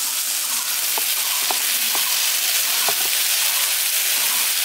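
Jackfruit and potato stir-fried in spice paste for an echor chingri (jackfruit and prawn curry) sizzle loudly and steadily in a pan, with a few soft scraping and stirring knocks close by.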